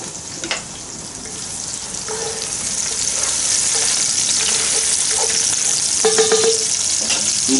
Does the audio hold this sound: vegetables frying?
yes